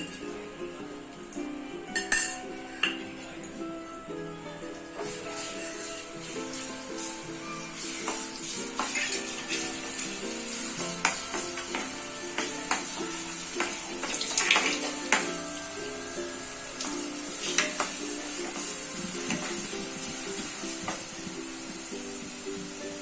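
Crushed garlic fries briefly in oil for homemade Schezwan sauce, a moderate sizzle that builds and crackles, with clinks and stirring scrapes scattered through it and no voices.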